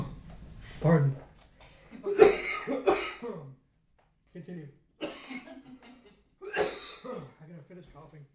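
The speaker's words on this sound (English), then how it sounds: "gotta finish coughing." A person coughing at a planning board meeting: several harsh, separate coughs and throat clearings in uneven bursts, close and fairly loud, with a few words spoken between them.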